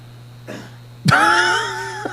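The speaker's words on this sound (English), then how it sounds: "I was just clearing my throat." A man clears his throat in a radio studio, one short rough rasp and then a louder gruff, voiced throat-clearing, close to the microphone with no speech.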